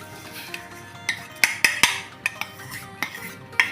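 Jaggery melting in water in a pot, stirred with a metal spoon that clinks and scrapes against the sides in irregular sharp knocks over a faint bubbling background, no speech.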